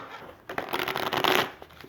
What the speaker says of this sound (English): I'm just going to have to actually shuffle these one more time